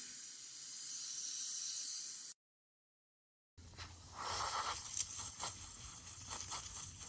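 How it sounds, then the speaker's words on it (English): An airbrush sprays in a steady, even hiss while its paint-clogged needle tip is cleaned, cuts out briefly, then returns with a breathier, more uneven spray. "cleaning my airbrush tip"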